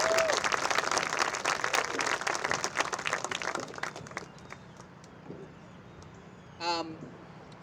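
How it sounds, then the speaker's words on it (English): Audience applause for a high school marching band at its senior show, dense clapping for about four seconds that thins out and fades, with a brief whistle near the end. "So please give them a round of applause for their hard work in that."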